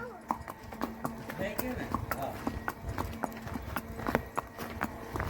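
A horse walks with a steady, fairly close clip-clop of hooves, while people talk over the hoofbeats throughout.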